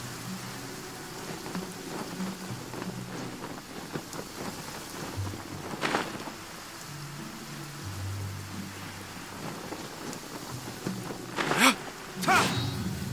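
Steady rain pours down in a video game world, with rolling thunder that swells into loud cracks near the end.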